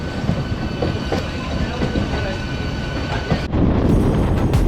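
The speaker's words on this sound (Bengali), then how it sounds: "ট্রেন ছাড়লো হাওড়া স্টেশন থেকে" A train pulling out of Howrah station, a steady loud rumble of rolling carriages with faint rhythmic wheel clatter throughout, getting louder near the end, with some background voices.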